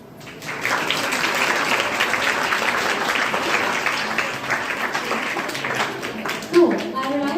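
A school audience applauds for a class 10 topper batch at a felicitation event, with sustained, dense clapping filling the room from start to finish, near and steady in level, and a brief voice surfacing near the end.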